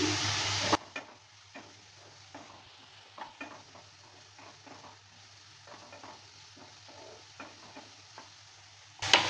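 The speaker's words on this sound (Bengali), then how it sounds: "ঢাকনাটা তুলে নেওয়ার পর নেড়ে চেড়ে নিচ্ছে।" Food stirred in a pan on low-medium heat after the lid comes off, with a gentle sizzle and a series of soft, irregular scraping strokes, close up and fairly quiet, with no voices.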